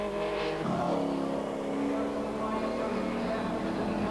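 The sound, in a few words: TVR Tuscan race cars charging past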